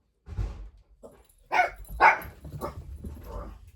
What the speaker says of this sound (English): Upset the dogs?